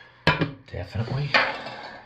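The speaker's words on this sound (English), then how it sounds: "scrape that out because I'm finished with this" A utensil scrapes the last of some batter from a mixing bowl, giving a few short knocks and clinks and a brief scraping sweep, close and distinct.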